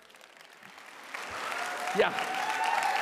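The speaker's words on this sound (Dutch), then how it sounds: "Wij gaan haar daartoe aanmoedigen met een enorm applaus." An audience at a September 2024 congress applauds to welcome a closing keynote speaker. The clapping starts faint and builds to a fuller round, with a brief voice heard.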